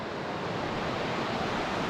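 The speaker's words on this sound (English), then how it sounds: "There's some roar for the river." Steady roar of a river rushing beneath a sagging bridge in wild Scottish countryside, a loud continuous broadband wash of water with no breaks and no voices.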